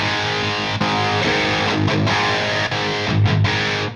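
Crunchy, distorted electric guitar chords through an amp's crunch rhythm channel with bright switch on ring out steadily for several seconds, loud and close, with brief dips between strummed phrases.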